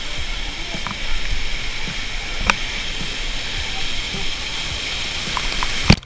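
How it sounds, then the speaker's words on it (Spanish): Water falls steadily inside a river cave at Río Sonador in Yásica, Puerto Plata, making a constant broad rushing hiss with a few sharp splashes and drips. "ahí adentro solamente se escucha el agua cayendo"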